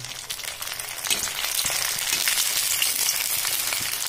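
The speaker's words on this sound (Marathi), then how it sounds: "आता या आपण गरम तेलात छान अशा तळून घेऊयात फुलेपर्यंत" Puris for pani puri fry in hot oil, three or four at a time, puffing up with a steady, close, broadband sizzle that holds at an even level throughout, with no voices.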